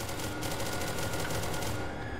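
Gunfire in the video game SL, a dense, steady stream of rapid shots blending into a continuous rattling roar for about two seconds.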